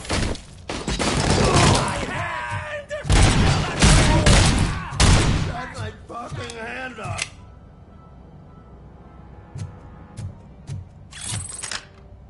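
Gunfire and action noise in the RoboCop Rogue City shooter game, with an AK-47 as the weapon, a loud stretch of shots and mechanical clatter mixed with talk, then quieter sparse clicks.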